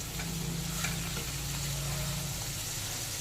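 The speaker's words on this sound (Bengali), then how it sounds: "এখানে আলু সাইড করে তেজপাতা আর জিরে ফোড়ন দিয়ে দিলাম" Bay leaf and cumin tempering sizzles in hot oil in a pan beside frying potatoes, a close, continuous crackling fry with a few faint stirring ticks and no talking.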